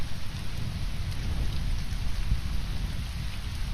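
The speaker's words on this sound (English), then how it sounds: "Plus it's raining, makes it even darker." Steady, dense rain in the video game Conan Exiles pouring down with a deep low rumble beneath it, continuous and fairly loud with no voices.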